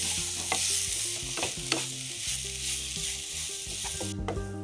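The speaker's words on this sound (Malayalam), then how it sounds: "ഒരു 2 മിനിറ്റ് ഇങ്ങനെ ഇളക്കാം" Tender jackfruit stir fry, idichakka thoran, is stirred in a hot pan. A spoon scrapes and knocks in a steady rhythm over a soft, continuous sizzle, close up with no voices.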